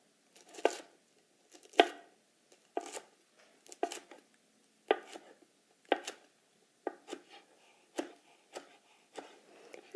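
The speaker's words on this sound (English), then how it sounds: "pushing down and forward with the middle portion of the blade, cutting strips as thin as I can" A kitchen knife slices kale into thin chiffonade strips, giving crisp, evenly spaced chops of leaf against a cutting board, about one per second, close and fairly quiet with near silence between strokes.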